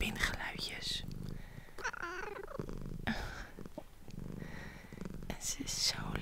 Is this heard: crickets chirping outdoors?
no